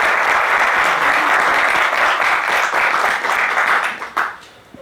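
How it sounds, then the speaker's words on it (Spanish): Audience at an academic colloquium applauding to welcome a guest speaker, a loud continuous burst of many hands clapping that tapers off sharply near the end. "recibir con un aplauso al invitado"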